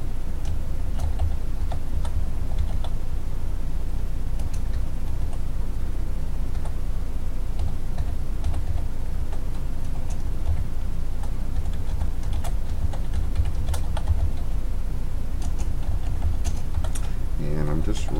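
Typing on a computer keyboard: a continuous run of light, close key clicks at an irregular rhythm over a steady low background hum, with no talking.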